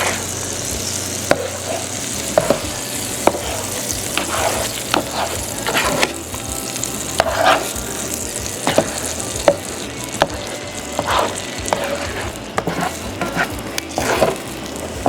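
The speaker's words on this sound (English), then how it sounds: "I'm going to start folding it a little bit over and putting the egg on top of itself to make some thick pieces." Scrambled eggs being folded and piled with a spatula in a hot pan, continuous sizzling frying close up with repeated scraping and tapping strokes of the spatula.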